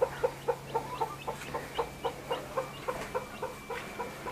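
Chickens scratching and feeding in a homestead yard give a steady run of soft, rhythmic clucks, about three per second, close by with no one talking.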